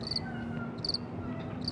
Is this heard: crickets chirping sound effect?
yes